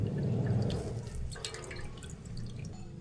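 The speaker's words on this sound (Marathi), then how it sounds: "हे बघा अशा प्रकारे भाजी पूर्णपणे पिळून घ्यायची आहे" Water drips and trickles as boiled amaranth greens are squeezed by hand in a home kitchen, giving soft, irregular drips over a low background rumble.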